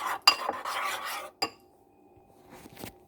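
Pancake batter with vanilla essence being mixed in a bowl for cottage cheese pancakes: scraping, clinking utensil strokes for about a second, a sharp knock, then quiet.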